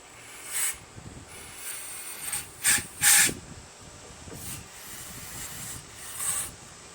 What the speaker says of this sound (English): I'm gonna blow some carb cleaner in there or starter fluid